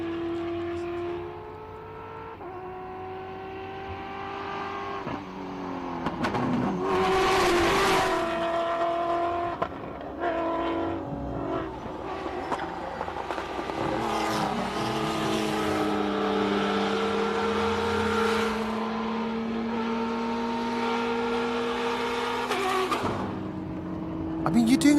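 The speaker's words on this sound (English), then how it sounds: "Here are these magnificent T1 rally raid vehicles, and they just, you know what? We should just listen to them." T1 rally raid vehicles race up a hill climb course, their engines roaring loud and near with rising and falling revs across the run, a commentator talking over them.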